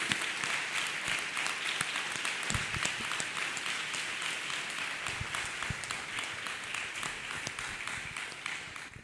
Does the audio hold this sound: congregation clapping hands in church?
yes